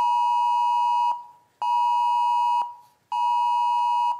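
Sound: emergency alert test tone on mobile phones

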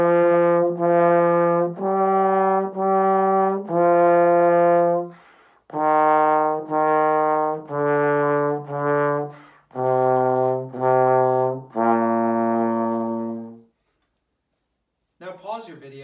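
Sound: trombone playing first four measures of Twinkle, Twinkle, Little Star

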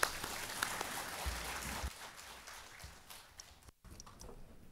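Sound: audience applause for the seminar speaker

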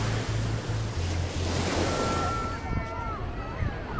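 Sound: sea waves

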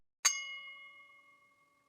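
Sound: doorbell ringing

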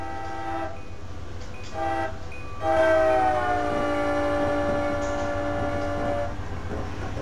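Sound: approaching train with horn in Train Simulator video game

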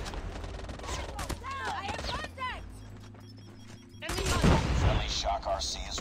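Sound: KRM shotgun firing in COD Mobile video game

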